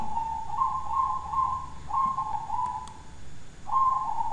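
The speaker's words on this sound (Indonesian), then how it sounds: "sambil mendengarkan suara perkutut itu di malam hari perkutut saya sedang berbunyi" A zebra dove coos in a repeated series of soft, trilling whistle-like notes, fairly clear against a quiet night background.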